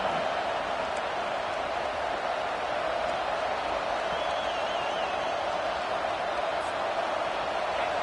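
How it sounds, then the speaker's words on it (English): Stadium crowd roaring steadily throughout a video game football broadcast, a dense continuous wall of cheering and noise that fills the venue without pause. "Listen to this crowd just shaking the girders of this place"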